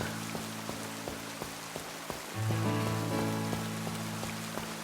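Steady rain falls in the Pokémon Violet video game, a continuous hiss with soft patter over background game music and tones.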